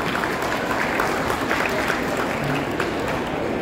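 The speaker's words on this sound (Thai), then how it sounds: "ขอเสียงปรบมือทั้ง6ท่านนะครับ" Audience clapping for six guests at a Thai film launch event for a boxing movie, loud steady applause from a crowd continuing throughout.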